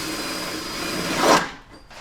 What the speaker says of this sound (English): And then we'll go ahead and use the 3/8 drill bit.